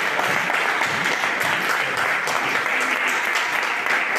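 A church congregation applauding during an evangelist's sermon, a steady dense wash of clapping from many hands that fills the whole stretch at an even level, with faint voices mixed in.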